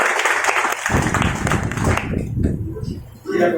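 An audience at an Independence Day programme applauds loudly for about two seconds, a dense clatter of many hands that cuts off abruptly and gives way to quieter murmuring and scattered noises.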